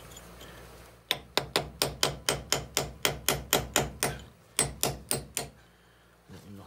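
A hammer strikes a chisel to shock a stuck screw loose on an MGB GT under restoration, about fifteen sharp, evenly spaced metallic blows in a steady rhythm, close and fairly loud, then a short pause and a few more taps.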